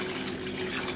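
Fake blood liquid pouring steadily into a ziploc bag, a continuous close wet splashing flow with no pauses and no talking.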